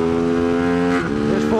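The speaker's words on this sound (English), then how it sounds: "Oh, it chatters. I think it's because there's no slipper clutch." A Tianda TDR300 race motorcycle at full racing pace on Mission Raceway holds loud, steady engine harmonics, then roughly a second in the pitch drops and the note stutters and chatters through a downshift without a slipper clutch, the engine revving back up afterward.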